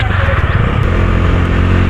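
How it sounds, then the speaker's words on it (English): A stock-exhaust Bajaj Dominar 250 motorcycle, a 250cc power cruiser, rumbles with a deep, bassy, loud engine note while riding. The sound is steady and close. "So the exhaust note is really nice, it's very much bassy, and it's actually pretty loud as a stock exhaust."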